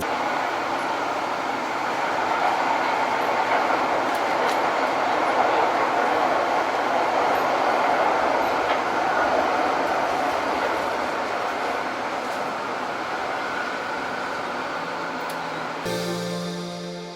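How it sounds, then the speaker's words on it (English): Tram 58 runs through Royal Park in Melbourne with a steady, close rolling roar of wheels on rails that lasts throughout and cuts off sharply near the end. "Driver view from tram 58 of Royal Park, Melbourne."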